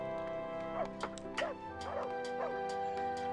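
Dogs in the video game Rise to Ruins give several short, fairly faint barks and yips at irregular intervals over a steady background of game music and ambience.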